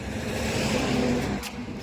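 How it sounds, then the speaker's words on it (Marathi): Cars and trucks rush past at speed on the Solapur highway, a loud steady roadside whoosh of engine and tyre noise that fades slightly near the end. "हे अशा गाड्या चालल्यात"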